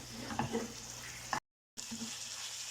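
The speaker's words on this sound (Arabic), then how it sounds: "وحنا كنحركوا باش ما يطلق لناش الدجاج الماء" Chicken with harissa fries in a pan and gets stirred, a steady close sizzle with brief scraping clatters, broken by a short silent gap before the frying resumes.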